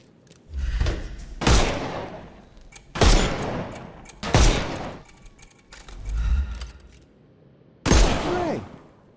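Heavy gunfire in Sherlock Holmes Chapter One, shooting armour off enemies: five loud bursts of shots, each dying away in a short echoing tail, spaced about 1.5 seconds apart with quiet gaps.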